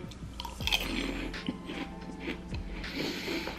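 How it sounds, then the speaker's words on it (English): Crunchy foreign snack bitten and chewed close to the mouth, a series of soft crunches and chewing noises running through the whole stretch with no talk. "Oh my gosh, it's such a soft crunch."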